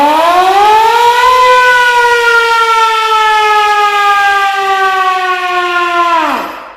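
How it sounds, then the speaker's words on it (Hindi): An old railway emergency siren at a museum station winds up to a loud, steady wailing tone, holds it for several seconds, then winds down as it cuts off near the end, close and alone. "ये इमरजेंसी सायरन।"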